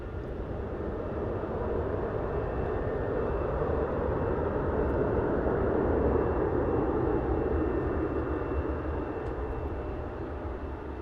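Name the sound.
Airbus A321 airliner landing at DFW airport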